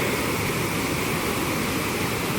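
A fast-flowing, flooded large river rushes in a loud, steady broadband roar with no breaks, like a continuous torrent close by.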